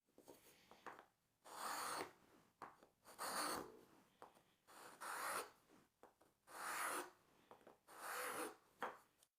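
A wood rasp files the tenons of a dovetail joint in a series of slow, rhythmic rubbing strokes, about six or seven rasping passes separated by short pauses, close and fairly quiet.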